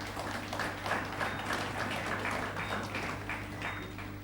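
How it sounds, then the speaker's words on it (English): Audience clapping at a sports awards ceremony, a steady room-filling patter of many hands over a low hum, moderately loud and without speech. "Ladies and gentlemen, a round of applause for"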